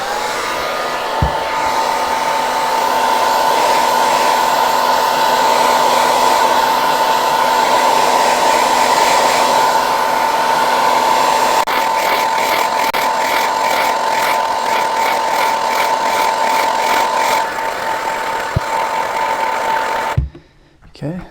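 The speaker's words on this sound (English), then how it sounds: "in lieu of a heat gun, again, cost saving here, my wife's hair dryer." A hair dryer, used as a heat gun while mudding a football, blows steadily and loudly for about twenty seconds, with a constant whirring hum, then cuts off abruptly near the end.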